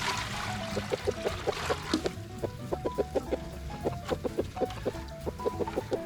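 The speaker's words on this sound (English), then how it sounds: "You can see these chickens are already pretty thirsty" A small group of chickens clucks close by in quick, repeated bursts, with a faint trickle of water in the background.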